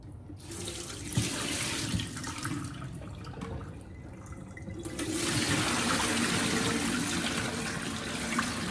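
Water pours from sprouts through a salad spinner's strainer, a loud continuous rushing splash that eases briefly midway, then surges fuller again.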